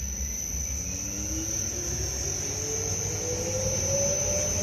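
A 100-litre explosion-proof double sigma mixer with copper blades runs for resin and fiber, giving a steady low mechanical hum with a constant high whine and a slowly rising tone as it spins up, no talking.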